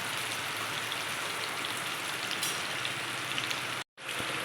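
Water lily (shapla) fritters frying in hot oil, a steady dense sizzle and crackle that runs unbroken and fairly loud, cutting out briefly near the end before resuming.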